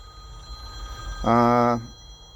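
A phone rings once in a short harmonic burst, loud and close, over a steady background hum at a mobile repair workshop.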